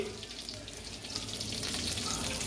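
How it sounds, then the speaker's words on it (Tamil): Oil sizzles steadily in a pan while tempering for chicken biryani, a dense continuous hiss that grows slightly louder, with no clear talk. "எண்ணெய் தாளிச்சிக்கிட்டு இருக்கு"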